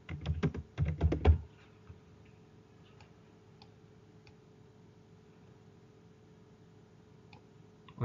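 Keystrokes on a computer keyboard as a picture caption is typed, a quick burst of close, loud clicks in the opening second and a half, then near silence with only a faint low hum.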